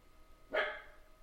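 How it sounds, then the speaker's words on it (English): A single short dog bark rings out at moderate volume in a quiet indoor room, with no other sounds around it. "That is my dogs you hear, by the way."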